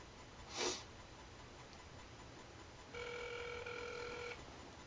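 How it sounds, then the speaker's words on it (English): A telephone rings once with a steady electronic tone lasting about a second and a half, fairly clear over a quiet room, preceded by a brief sniff or breath. "My phone."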